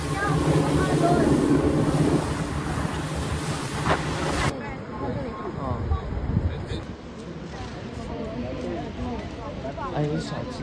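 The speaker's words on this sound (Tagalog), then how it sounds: "Ang lakas ng alon! Ito yung alon niya." Strong ocean waves surge and wash onto a beach in Bali, a steady roaring rush mixed with heavy wind buffeting the microphone, while people talk loudly over it throughout.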